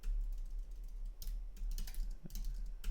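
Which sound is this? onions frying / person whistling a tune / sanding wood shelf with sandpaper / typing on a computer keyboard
typing on a computer keyboard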